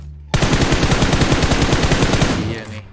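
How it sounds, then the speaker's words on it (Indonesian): Enemy gunfire in PUBG Mobile, a sudden loud burst of rapid automatic fire, close and sustained for over two seconds before cutting off, with no talk. "Oh tuh dia nih nembakin gue nih kayaknya"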